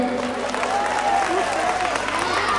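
An audience claps for a teacher at a magic show, steady dense applause filling the room with voices and tonal sounds mixed beneath it.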